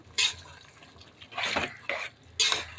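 A spoon stirring garam masala through a mutton biryani mix in a pot, three separate scraping, wet swishes close by with short gaps between them.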